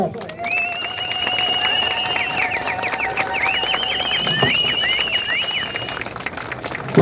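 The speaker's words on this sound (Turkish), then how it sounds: "bu alanda alkışlarla, ıslıklarla, zılgıtlarla protesto ediyoruz arkadaşlar" A protest crowd at an Adana rally whistles and ululates, with sharp repeated whistle trills and high wavering cries over steady crowd noise, loud and sustained.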